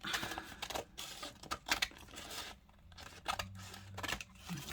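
Scissors snip through leftover paper pad scraps in a series of close, crisp cuts, several quick closes in bursts with short pauses between them, with no talk over the cutting.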